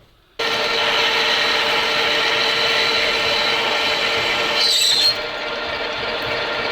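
A 14.5 mm drill bit bores into metal, starting abruptly and running as a loud, steady whine that shifts pitch briefly near the end before settling lower.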